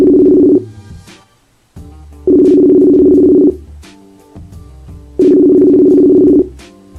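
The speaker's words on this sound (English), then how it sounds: "you're gonna hear the ringing and all that good stuff." Outgoing phone call ringback tone, loud and close, sounding in long steady bursts of about a second separated by pauses, repeating three times with no talk.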